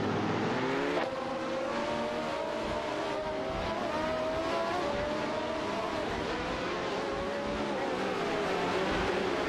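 Racing cars in a video game, a Surtees TS16 and a Ferrari 312T, roar continuously with high, wailing engine notes that rise and shift as they battle for position, dense and loud throughout.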